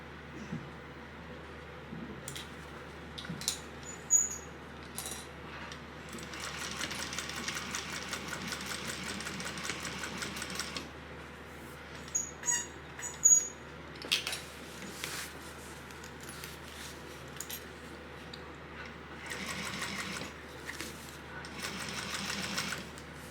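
A sewing machine runs in long steady bursts as it top stitches a crossbody bag, whirring continuously with brief pauses and small clicks between runs.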